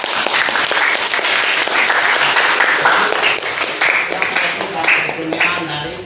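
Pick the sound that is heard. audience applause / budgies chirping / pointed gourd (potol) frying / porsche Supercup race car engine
audience applause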